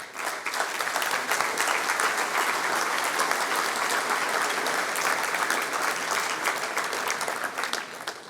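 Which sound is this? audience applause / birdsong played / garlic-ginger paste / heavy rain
audience applause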